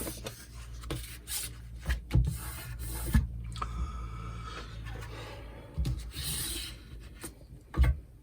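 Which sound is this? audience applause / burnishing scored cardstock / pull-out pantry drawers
burnishing scored cardstock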